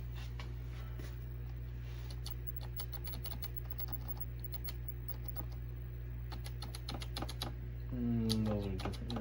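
Keys on an Apple II Plus keyboard under repair are pressed in quick irregular clusters of sharp clicks, close and fairly quiet over a steady low electrical hum, with a short rising beep-like tone near the end.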